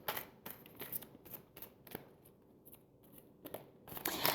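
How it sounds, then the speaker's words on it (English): Romance Angel oracle cards being shuffled: quiet, rapid papery riffles and flicks in short bursts, close up with no talking. "one last card from the Romance Angel cards"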